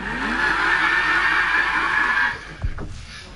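Lamborghini Aventador in Need for Speed 2015 roars with a loud, sustained engine drone for over two seconds, then cuts off into a couple of sharp thumps and a fading tail.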